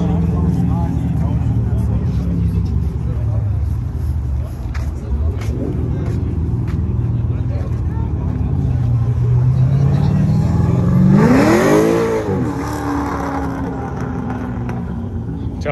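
An old Corvette pulls away at a Cars & Coffee meet, its engine rumbling and then rising in a revving sweep near the end, heard among crowd noise and talk.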